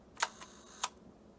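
A few crisp mechanical clicks from the shutter of a Rolleiflex 3.5A twin-lens medium format camera firing at slow speeds around half a second, two close together then a third after a short pause, in a quiet room.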